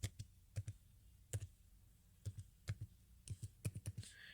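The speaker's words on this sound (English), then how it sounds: "we're just going to type" A Windows computer keyboard gets typed on in short bursts of crisp, close key clicks with brief pauses between them, quiet and with no talking.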